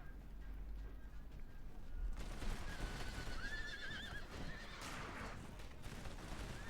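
Light horse militia horses in a Napoleonic-era strategy battle game, whinnying several times over a steady din of distant musket fire and battle noise, with no talk.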